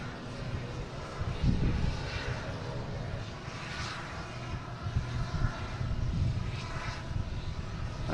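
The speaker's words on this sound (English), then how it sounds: "You're just in time for Cape Air Cessna 402 heading to Nantucket." A Cape Air Cessna 402 twin-propeller plane heading to Nantucket from Boston Logan gives a continuous engine drone at moderate distance, with bursts of wind buffeting and light background noise.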